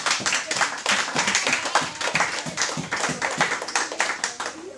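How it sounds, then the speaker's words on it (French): A church congregation claps and cheers at a French-speaking service, dense, steady applause with scattered sharp claps running the whole time, fairly close and loud. "Est-ce qu'on peut acclamer la parole du Seigneur?"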